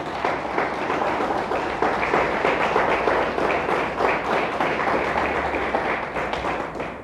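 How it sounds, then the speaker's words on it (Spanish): A church congregation gives a loud, sustained round of applause, with dense clapping going on throughout and no speech over it. "Denle un fuerte aplauso a Dios."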